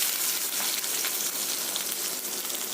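Steady, dense sizzling of onions frying in hot oil, close and continuous with no voices.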